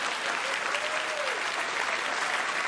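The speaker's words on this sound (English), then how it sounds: "Why are you applauding?" A studio audience applauds steadily and loudly, a dense wash of clapping throughout with a faint whistle or cheer rising briefly.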